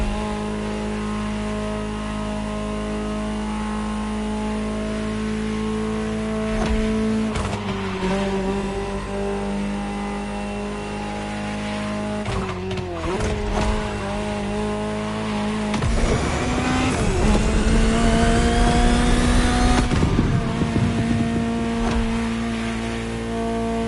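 A Ferrari supercar engine in The Crew Motorfest revs hard and close, its harmonic whine climbing and dropping through gear changes, with louder rising sweeps near the end and faint tire squeal mixed in.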